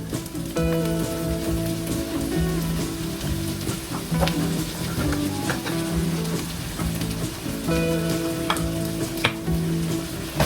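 Tofu and kangkong being stirred in oyster sauce in a pan, a continuous sizzle with repeated scraping strokes of a utensil against the pan, close and steady throughout.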